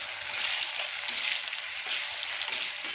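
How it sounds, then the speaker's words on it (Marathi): Potato frying in oil in a pan, a steady broad hiss of sizzling that runs continuously and fairly close, with faint stirring touches and no voices. "कारण तेलावर छान परतला ना की बटाटा मऊ होतो"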